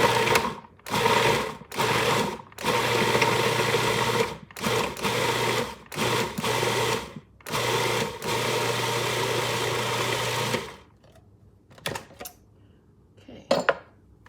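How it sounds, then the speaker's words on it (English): A food processor whirs in loud mechanical bursts of varying length, chopping red onions in pulses, then stops and a few clatters follow. "here goes the chopping."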